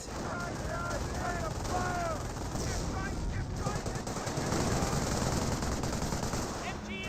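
Rapid machine gun bursts rattle through a Company of Heroes 1 battle, dense and continuous amid other gunfire and explosions, with a caster talking over the din.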